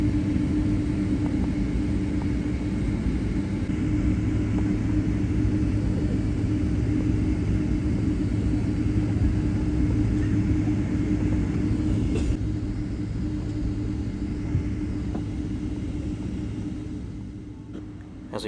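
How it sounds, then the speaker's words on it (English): An American Airlines Boeing 737 MAX taxis past with a continuous low engine rumble and steady hum that stays loud, then slowly fades toward the end. "Here is an American Airlines 737 MAX taxiing by."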